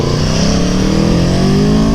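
Aprilia Tuono V4 1100 Factory motorcycle engine revving under a bridge, a continuous close, loud drone whose pitch rises steadily over two seconds, with no talking.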